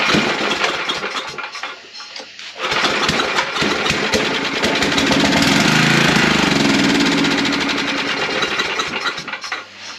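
Old gasoline generator engine cranks briefly, then catches and runs loudly and steadily at close range with a slightly rough, rattling tone before cutting back near the end.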